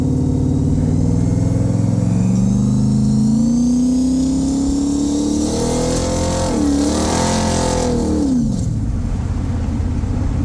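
A Chevrolet Corvette C3 converted to manual steering, its engine loud and close while driving, pitch rising steadily as it accelerates, then dipping and swelling again through a gear change.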